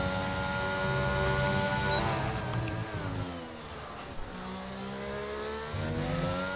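A McLaren race car in a sim racing game at the Austrian Grand Prix screams through its gears on a flying lap, loud and close. The engine revs hard, drops on shifts, and a steady high-pitched whine sits over it.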